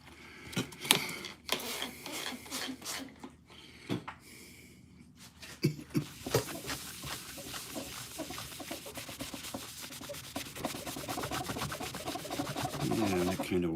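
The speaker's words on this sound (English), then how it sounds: "So I'm going to spray a little bit of water on a rag here and see if I can't wipe off some in the middle." A wet rag is wiped across a guitar body during staining, giving repeated soft rubbing and scrubbing strokes at close range, with occasional handling clatter and no speech.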